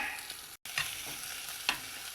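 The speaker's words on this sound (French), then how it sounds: "Now I'm making an omelette with bacon, onions." Bacon and onions frying in oil for an omelette, with a steady soft sizzle and a few stirring scrapes, one brief cut of silence partway through.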